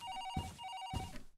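In the horror video game Paranormal HK, a telephone keeps ringing in two trilling bursts over a low ambient hum, with soft thumping footsteps beneath it.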